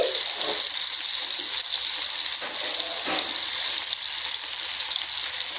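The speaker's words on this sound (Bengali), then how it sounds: "তো এরপর এখানে দিয়ে দিচ্ছি রসুন কুচি" Chopped garlic dropped into hot oil in a pan during tomato frying, giving a loud, steady sizzle and hiss that fills the whole stretch, close up with no talking.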